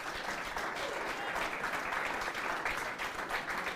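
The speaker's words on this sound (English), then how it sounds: "If we give him a round of applause." An audience at a tournament gives a tournament coordinator a round of applause, a dense, even clapping from many hands that holds steady from start to finish.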